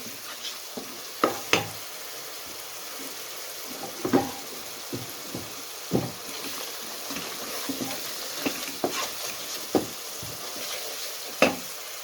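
Masala with ground red chilli and tomatoes fries in oil for moong dal, with a steady low sizzle broken by repeated scraping stirs and taps of a spoon against the pan, close by.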